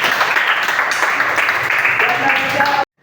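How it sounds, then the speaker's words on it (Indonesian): A classroom of students claps for a student group, loud and close in a steady patter with voices mixed in, stopping suddenly near the end. "Tepuk tangan untuk kelompok Ar-Rahim"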